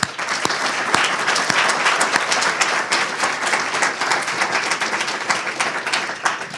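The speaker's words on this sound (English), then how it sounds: "I'd like everybody to give them a round of applause" Audience applauding for a university faculty at a spring workshop's final briefings, steady dense clapping from a room of people lasting throughout, fairly loud and even with no voices over it.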